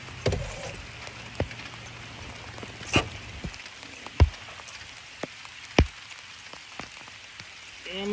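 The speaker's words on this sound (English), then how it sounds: "I'm not getting my phone out in this rain shower" Rain shower falling on a lake at Rollins Lake on a fall fishing outing, a steady soft patter with scattered louder drops and occasional knocks from a boat, close and fairly faint, no talking.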